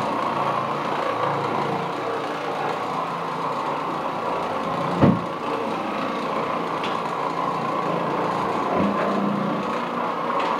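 An Oreck Orbiter floor machine scrubs pre-sprayed carpet with a steady whirring motor drone that runs throughout, with a single brief knock near the middle.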